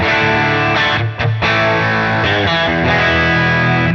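Distorted electric guitar through a two-channel Gladio overdrive pedal plays sustained chords with a thick, crunchy overdriven tone, briefly cutting out once before ringing on.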